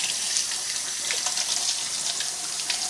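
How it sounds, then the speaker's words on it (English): A tap runs steadily into a sink while hands are lathered and washed with antibacterial soap, a close, even rush and splash of water with no talking. "we're going to go ahead and do a free lather and just wash our hands"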